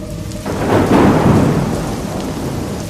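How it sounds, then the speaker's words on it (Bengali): Heavy rain pours over a forest setting in a cartoon scene, with a deep rolling thunder rumble swelling in after a brief pause and then fading into the steady close downpour. "এই বৃষ্টিটা আজই হওয়ার ছিল।"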